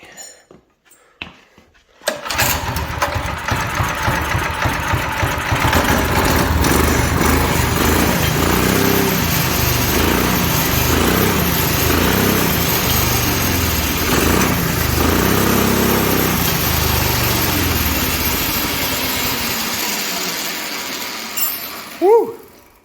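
Predator 212 engine on a swapped full-suspension lawn mower: after a brief rattle it starts up and runs steadily and loudly for about twenty seconds, with a rhythmic chugging pulse, then winds down and cuts off.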